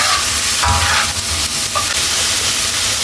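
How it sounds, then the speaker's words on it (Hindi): Chicken tawa fry roasting on a griddle over high flame, a loud, close, dense sizzle with brief clattering stirs and scrapes early on, no voices present. "तेज़ आंच पर थोड़ी देर इसकी भुनाई करेंगे"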